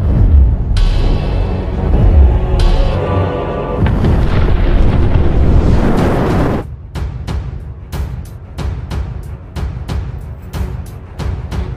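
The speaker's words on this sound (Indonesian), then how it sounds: "membawa nitrometana meledakkan seorang diri" A film explosion in which a man blows himself up with nitromethane. Loud, deep rumbling booms roll on for several seconds, then fade into a series of sharp bursts and crackling debris.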